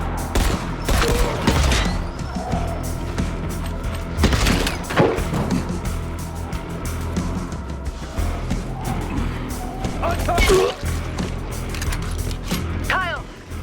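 Gunfire and combat in the video game Dying Light The Beast, loud bursts and thuds over a dense, busy game soundtrack, with crashes and rapid shots scattered throughout.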